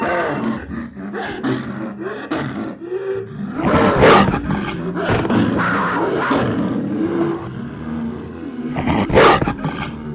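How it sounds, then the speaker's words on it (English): A cartoon jaguar roars and growls in a paint-animals cartoon, a loud, rough, sustained rumble with two stronger roaring peaks, close and continuous, with no talk. "Jaguar."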